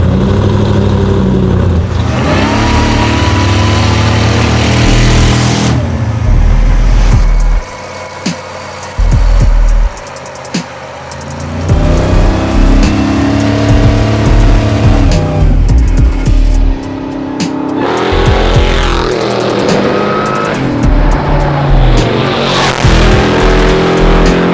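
A supercharged 900 hp Jeep Willys Ultra 4 truck roars loudly as it drives, revving and accelerating in surges with brief lulls, heavy and close throughout.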